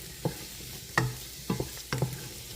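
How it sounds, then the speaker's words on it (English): Collard greens sautéing in a pan, a low sizzle broken by several distinct stirring scrapes and clunks at an uneven pace. "I'm going to let this saute down"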